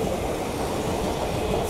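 A train rumbles through Armadale Station in Melbourne on the pass-through platform, a steady, loud roar of wheels and rail noise filling the whole moment without a break and with no voices.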